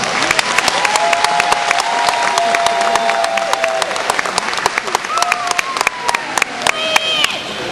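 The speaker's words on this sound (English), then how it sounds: "Let's give our teachers a round of applause" Steady applause from a graduation audience, with scattered whoops and voices over the dense clapping, sustained and loud for about eight seconds.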